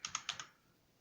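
Quick keystrokes on a computer keyboard, four crisp clicks in half a second, then quiet.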